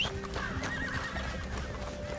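A horse in Red Dead Redemption 2 whinnies with a rising, wavering call over steady background noise, and faint hoofbeats clop along underneath.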